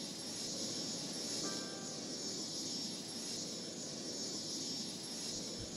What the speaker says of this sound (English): Enough airplane, enough.